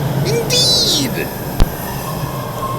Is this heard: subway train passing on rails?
yes